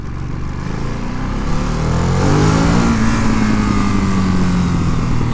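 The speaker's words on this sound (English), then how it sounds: "That is an adorable Lambo." A Lamborghini sports car engine revs up, rising to a loud, steady high-pitched whine that holds for several seconds, close by with no talk.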